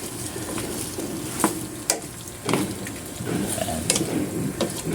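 Chicken tinola with bottle gourd (upo) being stirred in a pot, a steady simmering hiss broken by a few sharp scraping clinks of the spoon against the pot.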